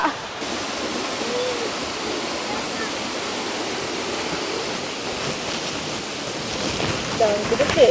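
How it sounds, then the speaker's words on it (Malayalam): Pampanal waterfall at Manathoor on the Pala–Thodupuzha route, a loud, constant roar of falling water that fills the whole stretch without a break. "ഞാൻ വെള്ളച്ചാട്ടം കാണാൻ വന്നാന്ന്."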